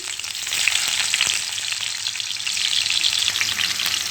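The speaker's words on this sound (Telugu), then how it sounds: "ఆయిల్ హీట్ అయింది ఇప్పుడు ఉల్లిగడ్డ ముక్కలు వేసుకోవాలండి" Onion pieces fry in hot oil with tempering seeds while a mutton and tomato curry is being made, a loud, dense, continuous crackling sizzle close by, with no voices.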